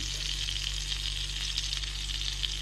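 Syrniki (cottage cheese pancakes) fry in oil in a hot pan over medium heat, giving a steady, close, bright sizzle and crackle with no break and no voices.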